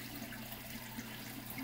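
Steady trickle of water draining into the Trigger Systems CR44 sump of a 240-gallon aquarium, a constant low rushing wash close by with no talk.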